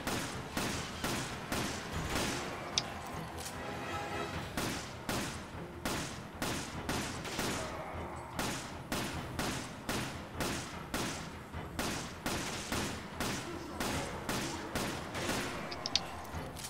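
Rifle fire in Resident Evil 5, a long run of sharp single shots spaced roughly half a second apart for over sixteen seconds, each crack decaying quickly, steady and fairly loud.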